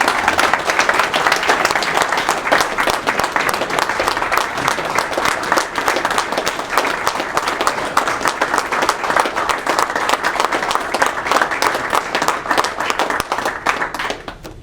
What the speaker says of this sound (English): if you wouldn't mind joining me in a round of applause for Ray Roberts.